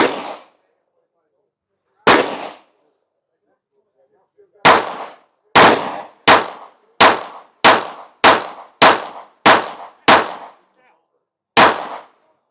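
Pistol shots from a Kimber DS Warrior striking steel targets at an outdoor range: a string of about a dozen loud, sharp cracks with ringing clangs, several fired in a quick steady rhythm after two slower opening shots.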